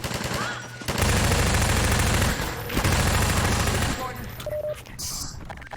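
Rapid automatic gunfire in the video game Half-Life 2, dense bursts of shots filling the scene with brief lulls and a few tonal game effects near the end.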